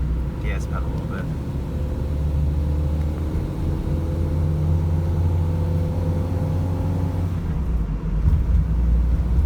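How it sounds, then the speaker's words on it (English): A Nissan Altima that is down on power is floored in first gear, its engine giving a steady, loud, low droning rumble with a held tonal whine from inside the cabin. "that's floored 1st gear"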